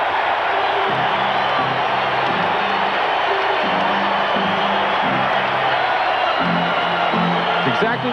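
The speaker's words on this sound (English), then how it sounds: "Listen to this crowd for a minute." Dense arena crowd roar from a 1990 NBA Western Conference Finals game between the Suns and Trail Blazers during a timeout, with sustained loud cheering, whoops and shouts, and a public-address voice talking intermittently over it.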